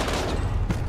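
Dense bursts of rapid automatic gunfire in a Call of Duty match, loud and continuous with a sharper crack near the end, no voices over it.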